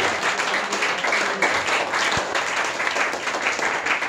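Applause from a church congregation during a preaching service, broad, continuous clapping from many people, fairly loud and even throughout, with no speech over it.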